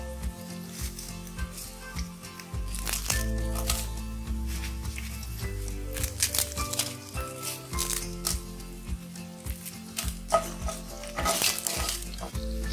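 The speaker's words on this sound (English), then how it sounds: "Roast the red chilies for 30 seconds." Garlic and broken whole red chilies roasting in a pan, a soft steady sizzle broken by stirring scrapes and clattering taps of the spoon.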